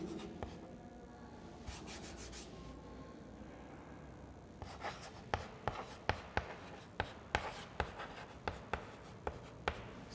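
Pen scratching over paper as class notes are written, a soft continuous scrawl at first, then a run of sharp, evenly spaced taps and strokes, close and quiet with no talking.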